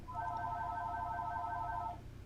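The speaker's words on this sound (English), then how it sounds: "of course my phone is ringing" A phone rings during a livestream, heard as one steady electronic tone burst of about two seconds with layered harmonic pitches over a low background hum, fairly close and with no talking.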